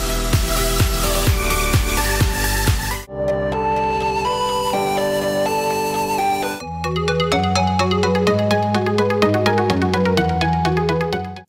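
A Crispy Arp synth preset recreated in Vital plays bright, plucky arpeggiated patterns, with the tone and register shifting between sections and a short gap before each change, loud and clean with no voices.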